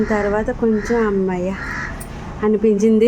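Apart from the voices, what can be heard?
crows cawing in the early morning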